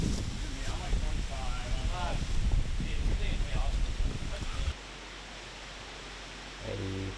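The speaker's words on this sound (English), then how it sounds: "You can see the wind's really starting to pick up here." Wind gusting steadily across an open disc golf course, a broad rushing roar that holds for several seconds and then drops abruptly to a quieter hush near the end.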